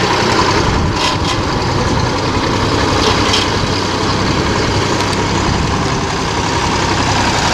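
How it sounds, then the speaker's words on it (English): A Massey Ferguson 135 tractor's heavy diesel engine runs loud and close, chugging steadily at idle with a constant low rumble throughout. "Brum brum brum went my tractor."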